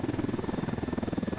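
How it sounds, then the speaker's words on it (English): Black Hawk helicopter in Ghost Recon Wildlands, heard from inside as a steady close rotor thump pulsing rapidly and evenly over a low engine drone. "So here we are with the Black Hawk helicopter"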